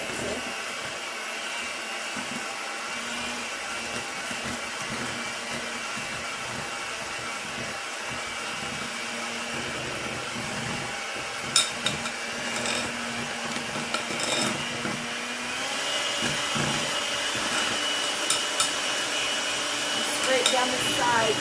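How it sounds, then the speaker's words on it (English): Small electric hand mixer whirring through blueberry cream bread batter, a steady close motor drone with occasional knocks and scrapes against the bowl throughout. "I'm going to mix this up with my little hand mixer."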